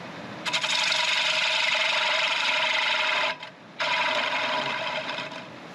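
Wood lathe cutting the tenon off a thin-bottomed turned bowl, a steady scraping, rushing cut that starts after half a second, breaks off briefly near the middle, then resumes and fades toward the end.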